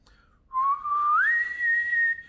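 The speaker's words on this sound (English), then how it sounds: "when I whistle, my tongue is behind my teeth" One person whistles a single clear high tone, starting lower and gliding upward before holding steady, close and alone against a quiet background.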